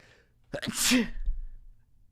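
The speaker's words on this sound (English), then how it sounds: "making myself sneeze." A single loud sneeze close up, a sharp inhale followed by an explosive burst, then quiet.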